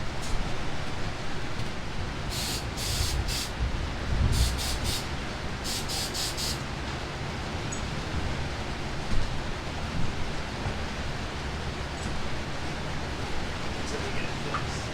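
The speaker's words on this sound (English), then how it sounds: "We can at least spray it with Flex Seal" Flex Seal sealant sprayed from a can in several short hissing bursts, over steady wind-like outdoor noise with some rumble.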